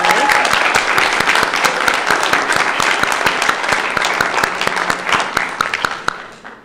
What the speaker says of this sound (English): Let's give a round of applause to all of us